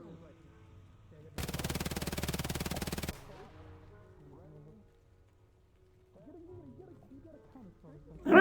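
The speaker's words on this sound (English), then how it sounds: "I thought I heard gunshots." A burst of rapid automatic gunfire rattles for under two seconds in a VRChat roleplay game, then quiet game ambience and faint voices follow.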